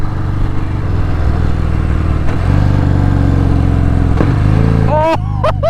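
The 1800cc engine of a 2021 Harley-Davidson Fat Bob rumbles steadily and loudly up close, with a couple of sharp clanks and a brief whining squeal near the end.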